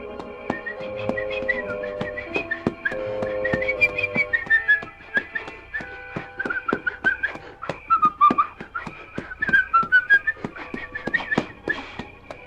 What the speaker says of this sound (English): he began to whistle